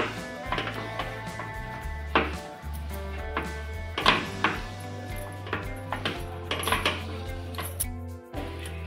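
Sesame seed and jaggery mixture being stirred with ghee in a pan, a spoon repeatedly scraping and knocking against the metal vessel over a steady low hum.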